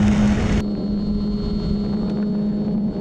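A radio-controlled model airplane in flight gives a steady, fairly loud motor drone with a constant whine and some wind rush, heard alone.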